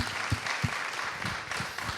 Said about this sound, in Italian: chiedo un applauso per loro perché se lo meritano tutti